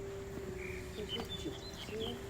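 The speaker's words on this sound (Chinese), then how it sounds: "鸟叫声就充满了各式各样的鸟叫声" Faint birdsong from several birds carries through a quiet residential neighbourhood: thin chirps and short whistled calls, scattered and distant over a steady low background hum.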